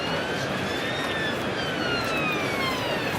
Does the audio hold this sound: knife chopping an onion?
no